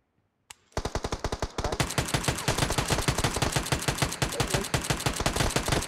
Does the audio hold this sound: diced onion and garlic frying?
no